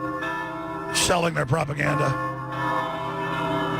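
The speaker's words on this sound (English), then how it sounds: "They're bonging the bells" Church bells ringing during a JFK 50th anniversary march, a sustained metallic tone under someone speaking nearby and crowd noise.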